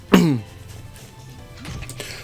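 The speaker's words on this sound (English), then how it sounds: "Sorry, I've got to clear my throat." One sharp, close throat clearing bursts out, followed by a quieter, rougher second clearing; a brief lull lies between the two.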